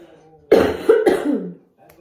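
A person lingering with a cough after a coronavirus infection gives a short, throaty cough and throat clearing in two bursts, close and loud in a quiet room.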